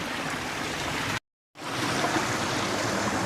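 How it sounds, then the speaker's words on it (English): Water spills over the edge of a pool along a trail, a steady broadband rushing and trickling that stays loud and continuous apart from a brief dropout. "we have a little overflow, folks. Look at that. It's coming over the edge"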